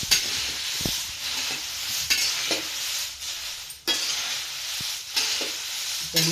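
Chillies and curry leaves dry roasting in a pan for chutney powder, with steady scraping stir strokes and a soft crackle running throughout and a few sharper clinks of the utensil; no voices.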